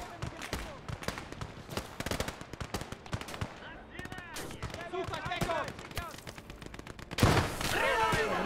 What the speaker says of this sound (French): La mitrailleuse fonctionne, c'est très très bien.